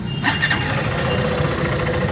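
A Hero Super Splendor Xtec motorcycle engine starts with a couple of quick cranking bursts, then settles into a steady, loud, close-up running drone.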